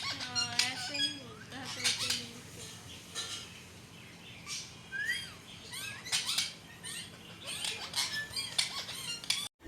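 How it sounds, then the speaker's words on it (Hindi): A pet parrot squawks and chatters in short bursts of squeaky, chirping calls, fairly faint against a low background hum, with brief pauses between phrases. "मैंने कहा कि ये तोता बोलता कैसे है,"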